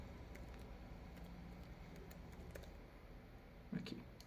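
Faint, sparse keystrokes on a computer keyboard tap out over a low, steady background hum, with a slightly louder clack near the end.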